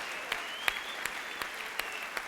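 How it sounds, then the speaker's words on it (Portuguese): Steady crowd applause fills a church hall in honour of its women, with a soft continuous patter of many hands and occasional louder individual claps standing out. "Um aplauso às mulheres."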